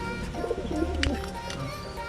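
Pigeons coo softly in low, throaty murmurs while being fed, with faint background chatter and a brief bird call mixed in.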